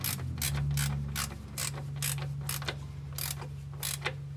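A ratcheting wrench tightens transmission pan bolts on a 2019 Silverado with an 8L90 transmission, giving a close, rhythmic series of clicks over a low steady hum.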